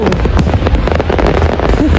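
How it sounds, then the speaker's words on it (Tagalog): New Year fireworks burst over Sydney Harbour near the Opera House in a dense, rapid barrage of loud cracks and booms, with crowd noise underneath. "Kaya kitang-kita ko yung kabuuan ng fireworks display."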